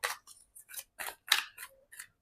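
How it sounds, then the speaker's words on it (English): Tarot cards are shuffled in a quiet room, with a series of about eight short, soft riffling bursts in a loose, uneven rhythm, close and with no talk. "Okay, the card has shuffled."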